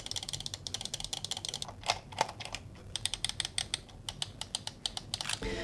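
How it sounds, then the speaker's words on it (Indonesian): Rapid clicking from a Press Play Nova Pro lightweight wireless gaming mouse, dozens of sharp, snappy clicks in quick bursts with brief pauses, close and crisp with no talk. "kita lanjut ke sound test mouse Nova Pro ini aja."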